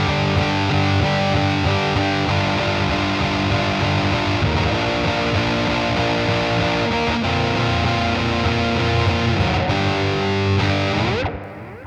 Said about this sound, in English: so that's the fuzz, delay, and reverb